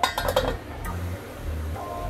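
A metal lid clinks several times in quick succession on a pot of mustard fish curry, followed by a low simmering rumble.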